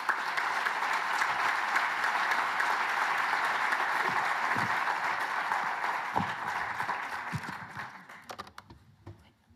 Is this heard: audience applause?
yes